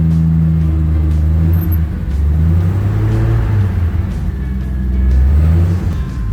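An old vintage car named Droopy idles after a cold start, its engine a loud, close, throbbing low rumble with slight rises and dips as it warms up.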